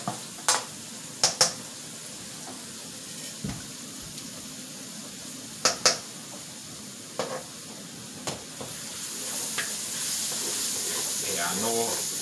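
Onion and shallots fry in a pan with a quiet steady sizzle, punctuated by sharp scattered clinks and taps of a utensil on the pan, and the hiss swells louder toward the end.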